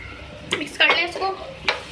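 Chicken being stirred in a pan with jalfrezi masala and tomato puree, a few short scraping and clattering strokes of a spoon against the pan, close and moderately loud.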